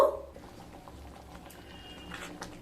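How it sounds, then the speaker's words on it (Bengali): Masoor lentils and kohlrabi boil in a pot with salt and turmeric, a faint steady bubbling and soft popping simmer, close and quiet, with a brief louder knock at the very end. "এবার ডাল আর ওলকপি সেদ্ধ হওয়া পর্যন্ত অপেক্ষা করব"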